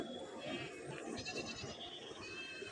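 Goats at a livestock market bleat repeatedly, several wavering cries overlapping one another against a faint background murmur.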